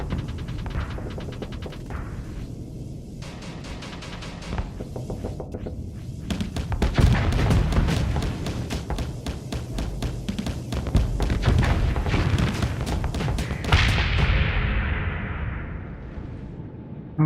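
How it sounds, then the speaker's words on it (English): Missiles fire and explode in the space combat game Starsector, a dense barrage of rapid launches and crackling blasts over a rumbling bed, loud and sustained before ending in a fading boom. "that thing's shooting a lot of missiles"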